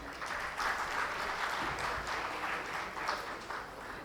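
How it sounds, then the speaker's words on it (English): Audience applause at the inauguration of the BES Expo 2017 broadcasting conference, a steady, even round of clapping filling the hall for several seconds at moderate loudness. "A round of applause, ladies and gentlemen,"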